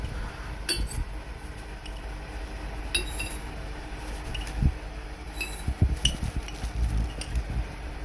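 A spoon scraping and clinking inside a glass jar, with several sharp light taps and scooping scrapes at irregular intervals over low background hum, close by.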